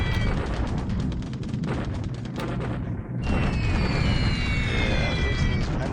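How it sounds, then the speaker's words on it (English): Bombing explosions in the War in the Pacific naval war game roll out as a dense, continuous barrage of booms and rumbling blasts, loud and close throughout, with a brief dip midway before the thunder resumes. "All right, here comes our bombing."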